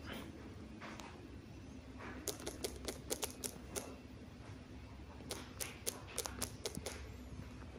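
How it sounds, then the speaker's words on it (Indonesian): Keys clatter on a keyboard as a Telegram poll name is typed, faint clusters of light clicks in short bursts over quiet room hiss. "kemudian kita ketikkan nama nama polling ataupun voting yang ingin kita buat"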